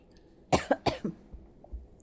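Two or three quick, close coughs in a short burst, followed by a softer throat sound, against a quiet background.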